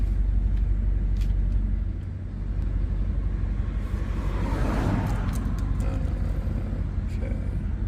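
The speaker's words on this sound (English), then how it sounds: "There's a car coming now." A car passes on the road beside a stationary BMW M8 Competition, heard as a broad whooshing swell that rises to a peak and fades, over the steady low rumble of the idling engine.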